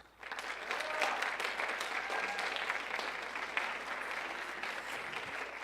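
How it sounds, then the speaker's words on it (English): An audience applauding steadily to vote for a contestant in a live debate bout, a dense, even wash of clapping that holds for several seconds with no talk over it. "please applaud if you think that that was Emily debating questions"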